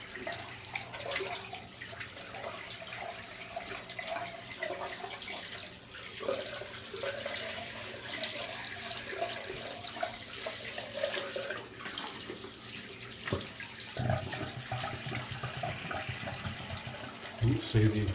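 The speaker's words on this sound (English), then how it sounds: "Just run that in the sink, get some fresh water." Water running from a tap into a sink while rinsing a slant razor during a shave, a steady close hiss and splash that continues for the whole clip, with a person talking over it at times.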